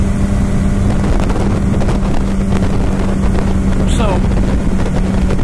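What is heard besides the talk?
wind while riding a motorboat on water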